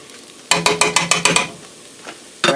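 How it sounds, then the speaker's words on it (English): Pot roast ingredients stirred in a pressure cooker: a quick run of about eight rhythmic scraping strokes close up, then a pause and one more stroke, over a soft sizzle. "Stirring it around."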